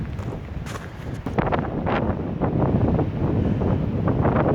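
Wind blowing across an unstable pumice-covered mountainside at a landslide site, loud steady gusts buffeting the microphone in rough rumbling surges with no voices.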